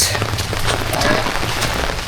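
Steady heavy rain from a typhoon pattering on a surface, a dense continuous hiss with scattered sharper drops, close and loud, no talking.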